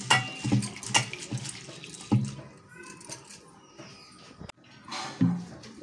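Sago pearls are washed under running tap water in a kitchen, with water splashing and sloshing intermittently beside a person speaking.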